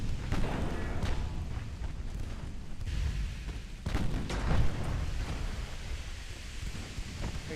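Battleship main guns firing in Ultimate Admiral Dreadnoughts during a naval battle: several deep booming salvos at uneven intervals, each a heavy thud with rolling rumble, over a constant roar of sea and distant gunfire.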